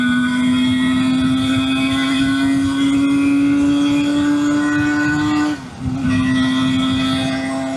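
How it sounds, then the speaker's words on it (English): Suzuki GT125 two-stroke motorcycle pulling out onto a national speed limit road, a loud, steady buzzing engine note held close, briefly dipping around a gear change before resuming. "I'm not on the fastest vehicle for pulling out onto a national speed limit road"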